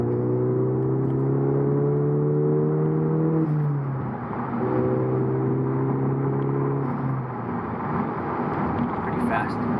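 A Volkswagen GTI with a Stage 2 tune mapped for 93 octane accelerates hard, its engine note climbing steadily, dropping at a gear change, then climbing again over loud road and wind noise from inside the car.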